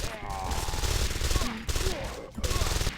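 Submachine gun fire in Deus Ex: Invisible War comes as dense, rapid bursts of game gunfire, loud and close, with short pauses between volleys and a voice briefly heard over it.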